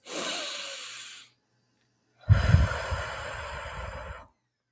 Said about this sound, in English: take few deep loving breaths with all of you right now in this sacred space